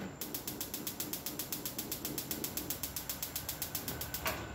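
A 2018 Rinnai gas stove with an enamel top having its ignition knob pressed, giving a fast, even train of sharp ticking clicks, roughly five per second, close by, with a fan whirring faintly behind.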